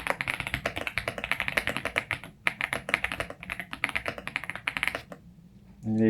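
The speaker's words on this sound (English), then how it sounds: "this is my first mechanical keyboard." Rapid typing on a new mechanical keyboard, with dense clacky keystrokes in quick bursts and brief pauses, close and crisp, stopping near the end.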